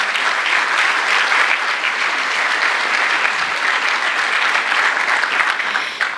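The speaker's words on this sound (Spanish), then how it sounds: "un aplauso a mis colegas del BID Invest" Sustained audience applause at a financial conference in Ecuador, dense and steady clapping from a large crowd filling the whole stretch without talk.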